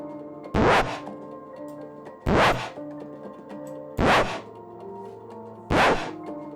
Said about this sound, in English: let's see what happens when it skips